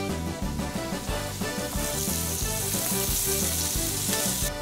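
Red and green peppers, celery and onions sizzle in a pot for New Orleans style gumbo, a loud steady frying hiss filling the whole stretch with clattering stirring on top.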